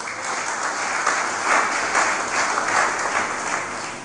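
An audience claps together at a live-streamed talk on fasting, a full, steady round of applause lasting about four seconds with no voices on top.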